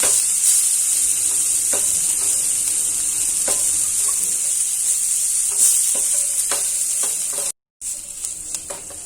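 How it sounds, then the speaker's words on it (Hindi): Flour with spinach roasts in a pan over low flame, a steady bright sizzle with periodic spoon scrapes and clicks, cut briefly by a short silent gap near the end. "फ्लेम को लो कर लेते हैं और मैदे को भून लेते हैं।"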